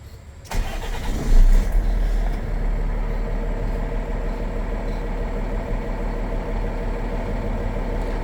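A truck engine cranks and fires up with a loud start, then settles into a steady, even idle that runs on alone.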